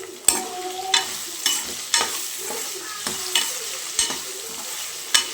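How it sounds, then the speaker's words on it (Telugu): Onions fry in a pan with a soft steady sizzle while a spoon scrapes and stirs in regular strokes about once a second, each stroke a sharp clack; no talking. "ఉల్లిగడ్డ అనేది వేగింది."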